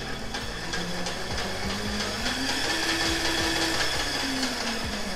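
An electric off-road kart motor runs under power, a steady close whine whose pitch rises and falls. Rhythmic ticking from the drive chain sounds beneath it, with no talking.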